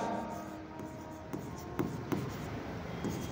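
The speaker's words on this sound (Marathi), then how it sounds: "तर इथे लिहूया आपण मार्च" A pen scratching across paper while entries go into an accounting journal, a soft continuous scribble broken by a few sharper strokes. It sits close and quiet, with no voices.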